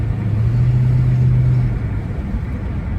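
An old Hyundai car engine runs steadily nearby, a low rumbling idle with a brief rise in pitch in the middle before settling back to an even drone.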